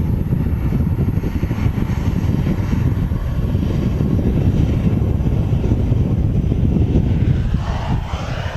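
A loud, steady roar of aircraft engines carries across Manchester Airport, linked to a World2Fly Airbus A350. The dense low rumble holds constant with no break, and a faint rising whine creeps in near the end.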